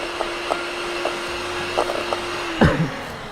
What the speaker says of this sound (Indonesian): lalu kita mixer kembali sampai tercampur rata